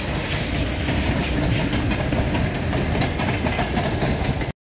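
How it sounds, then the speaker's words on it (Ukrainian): A train rolls steadily past on nearby rails in a park area in Lviv, giving a loud, continuous rumble with clickety-clack wheel noise that cuts off abruptly at the end. "Потяг їде."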